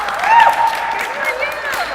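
An audience at a startup event applauds, dense clapping spread across the room, heard under talk from a nearby speaker.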